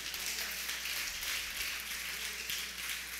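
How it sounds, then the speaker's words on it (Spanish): A church congregation applauds in steady, dense clapping heard at moderate distance, like light rain on a surface, sustained and even throughout. "Dele a Dios un aplauso ahora."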